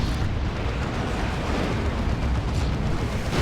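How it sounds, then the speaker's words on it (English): Rocket run explosion in a Warhammer 40k Dawn of War 2 3v3 multiplayer battle: a dense, continuous rumbling blast of booming detonations that stays loud and broadband throughout. "There's a rocket run."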